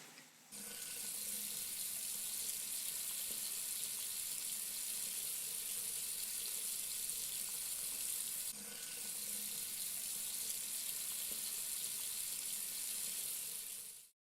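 A kitchen tap runs steadily while sausages are rinsed under it, a continuous close hiss of flowing water with a brief dip in the middle before it stops at the end.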